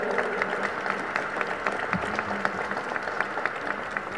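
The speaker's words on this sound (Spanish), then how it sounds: "Vamos a darle un fuerte aplauso," An audience at a sports commission event applauds, with steady, moderately loud clapping and a few sharper individual claps standing out, plus a faint murmur of voices underneath.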